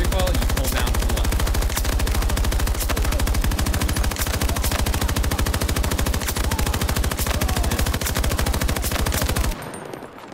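Sustained fully automatic fire from an LCMG light machine gun in a video game, a dense rapid stream of loud shots running continuously for about nine seconds before cutting off abruptly into quiet.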